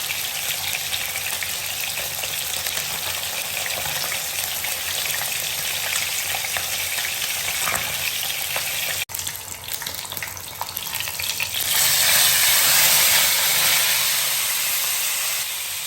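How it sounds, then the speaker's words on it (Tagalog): Tilapia fries in hot oil with a steady, dense crackling hiss that swells louder and brighter near the end, a brief knock breaking in partway through. "naluto na po yung tilapia natin"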